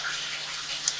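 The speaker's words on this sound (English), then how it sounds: "the water flowing through is coming from the stationary tub that the laundry dumps into" Water rushes steadily through a drain line fed from a laundry stationary tub, a continuous hissing flow heard close up for about a second, with a faint hum underneath.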